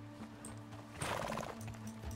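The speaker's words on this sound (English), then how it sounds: "That's a large horse." Horse in Red Dead Redemption 2 (RedM roleplay), with a loud whinny around the middle over steady clip-clop hoofbeats and a low continuous background hum.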